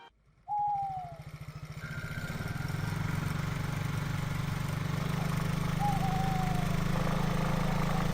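Motorcycle engine running at night on a cold, empty road, a steady low idling drone that starts abruptly and holds loud and constant throughout, with brief faint higher tones drifting over it.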